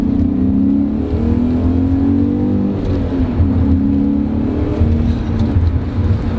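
A BMW E39 M5 V8 pulls hard in second gear, a steady loud engine note rising under acceleration from inside the car, with no talk over it.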